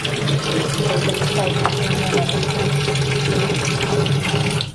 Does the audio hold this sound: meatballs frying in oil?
no